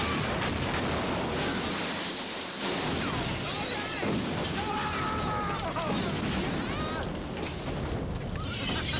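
Police car blowing up during a chase in the 1993 Super Mario Bros. movie, a dense, loud roar of blasts, crashes and rumble that runs throughout, with shouting voices mixed in.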